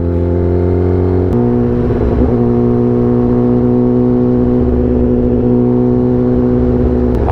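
A powerful superbike engine drones loudly and steadily while being ridden on the road, with a gear change shifting its tone partway through, up close and without any talk.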